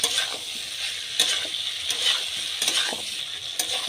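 Soybean chunks and egg sautéed in a pan, a steady sizzle with repeated scraping stirs of a spatula, close and fairly loud, no voices.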